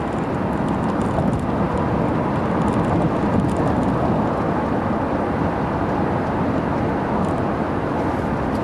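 A 2015 Subaru Outback 2.5i at about three-quarter throttle on the highway: a steady, dense roar of engine and road noise held at even loudness throughout, with no speech.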